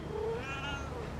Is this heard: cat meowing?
yes